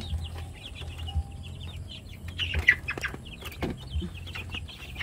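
Chickens cluck and call while eating on a farm, a busy mix of short clucks and chirpy notes over a low rumble, with the birds close and fairly loud.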